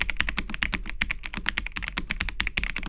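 Rapid, steady keystrokes on an RK Royal mechanical keyboard, about $60, with Silver Switch Pro switches, crisp close-up clacks in a quick continuous rhythm with no talking.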